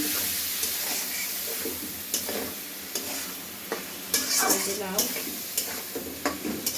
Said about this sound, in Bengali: এটা এখন লাউটা একটু নাড়বো